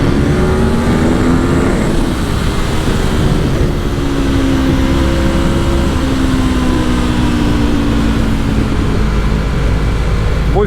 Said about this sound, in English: show this bike making some nice noises, going flat out-ish